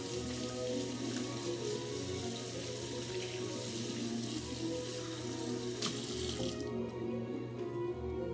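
Hands are rinsed under a running kitchen tap, water splashing steadily and close into the sink before the flow cuts off near the end.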